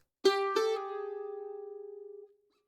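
Two sampled guitar notes played legato in quick succession, the second sustaining and fading smoothly with a slight wavering tremble before cutting off.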